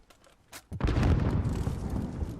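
After a quiet stretch with a faint click, a deep, booming grenade explosion in Call of Duty erupts and rumbles on, loud and heavy.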